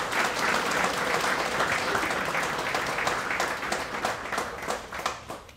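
A room full of people applauds a student athlete at a community college national signing day ceremony, sustained dense clapping that holds steady and then begins to thin toward the end.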